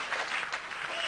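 A short burst of applause, a small crowd clapping steadily for about a second.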